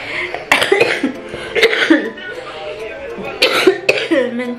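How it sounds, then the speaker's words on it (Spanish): Several sharp coughs in bursts, close up, with a voice talking in between. "Me entró la tos"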